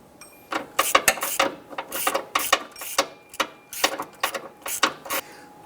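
Rapid ratchet clicks in short irregular bursts as a swivel-head extension turns a 13mm bolt on the serpentine belt tensioner of a 2008-2013 Nissan Rogue, close and crisp with brief pauses between strokes.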